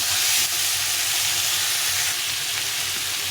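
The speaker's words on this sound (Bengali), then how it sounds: "এটাকে ভালো করে একটু কষিয়ে নিতে হবে" Spice masala with cauliflower, peas and paneer sizzles in a pan with a loud, continuous hiss and faint stirring beneath, steady from start to finish.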